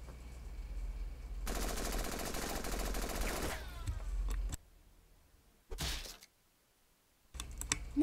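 A long burst of rapid rifle fire from the Henry Stickmin Collection game, loud and continuous for about two seconds, then fades into quieter game sounds and a few short sharp bursts.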